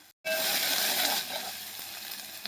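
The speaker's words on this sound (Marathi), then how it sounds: "तर हा मसाला आपण सगळा भाजून घेतला होता" Masala sizzling steadily in a hot pan after a brief silent gap, a bright continuous crackle with faint stirring scrapes, close and alone.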